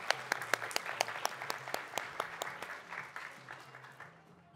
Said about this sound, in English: big round of applause for all of our volunteers here